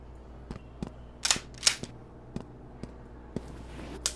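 Police taser firing in Flashing Lights, sharp snapping clicks in a quick irregular series with a couple of brighter hissing bursts, fairly close over quiet ambience.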